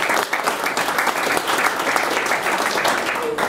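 A JavaScript meetup audience claps for an arriving speaker: steady, full applause from many hands, sustained evenly for several seconds with no voices over it.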